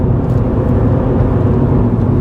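A car engine drones loud and close with a dense, steady low roar as the car accelerates to overtake cyclists on a road, and no voices are heard.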